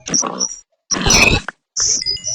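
A pig grunting in Minecraft, three short, close snorting grunts separated by brief silences.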